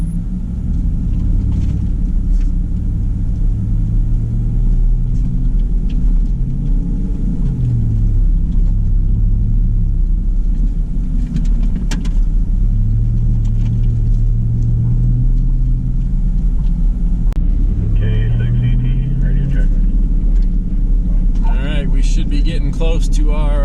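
A 4x4, not yet in four-wheel drive, climbs a dirt trail on Storm Mountain in Colorado with a loud, steady engine rumble whose pitch rises and falls with the throttle, heard close throughout.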